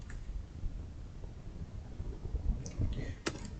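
Soft, irregular clicking of keys on a computer keyboard, close and fairly quiet, with a slightly louder cluster of taps near the end over low background noise.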